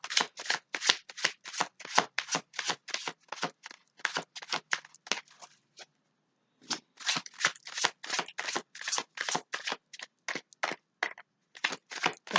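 Tarot cards being shuffled in rapid papery riffles and flutters, closely recorded, with one short pause partway through before the brisk shuffling resumes; no voices.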